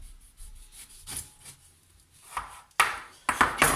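A kitchen knife cuts a lemon in half: a few soft, quiet slicing scrapes, then two sharper taps as the blade meets the board near the end.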